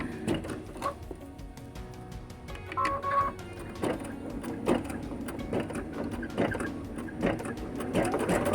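An embroidery machine stitches an elephant design in thick, layered fabric, giving a steady fast mechanical rattle of needle strokes with small clicks and shifts in pitch throughout.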